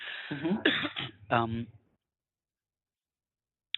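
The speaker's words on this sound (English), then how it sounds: "Excuse me, I'm just going to cough here" A few harsh coughs in quick succession, close and loud, followed by silence.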